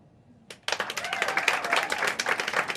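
Pub audience at a comedy show bursting into applause after a single early clap, a lively spread of many hands clapping close and steady for a couple of seconds.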